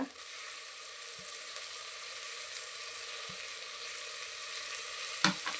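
Green chillies, mint and coriander fry in a pan with a steady, soft sizzle throughout, broken by a few faint scrapes and one sharper stir near the end.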